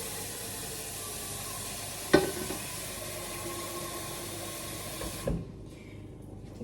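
Mie goreng noodles sizzling and being stirred in a pan, a continuous frying hiss with two sharp utensil clanks, before the sizzle cuts off abruptly near the end.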